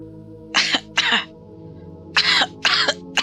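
A woman coughs hard while coughing up blood: four harsh, close coughs in two pairs separated by a short pause, with no talking.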